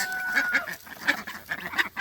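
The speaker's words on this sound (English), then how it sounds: "I'm going to go give a little bit to the ducks." Ducks on a farm quacking at feeding time, several soft overlapping quacks in quick succession, close by and moderately quiet.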